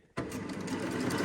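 Sewing machine stitching a seam on a tank top, starting abruptly after a moment of quiet and then running as a fast, even mechanical whir with rapid needle ticks, close and steady.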